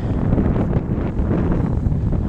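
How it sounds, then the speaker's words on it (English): Strong wind buffeting a microphone outdoors beside a lake in a state park picnic area, loud continuous low rumbling gusts for a couple of seconds, no talking. "I don't know how well the audio is going to work in this wind."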